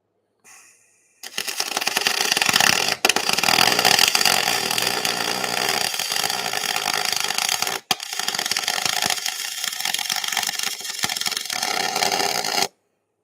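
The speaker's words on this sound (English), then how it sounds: "it's quite a bit dirtier when we're running the straight MIG" Aluminum is MIG welded with a straight MIG gun, giving a loud, steady, harsh crackling buzz close by that starts after a moment of quiet, cuts out briefly near the middle and runs on to a clean stop.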